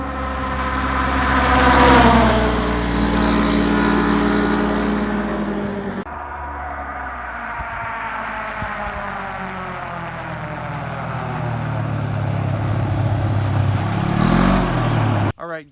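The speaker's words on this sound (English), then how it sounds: "We're going to be throwing in some driving clips in between some of the discussion points with the RZR" A Polaris RZR 900 side-by-side drives along, its engine a steady, fairly loud drone with rising and falling revs, a brief surge near the start and a sharp cut at the very end; no one speaks.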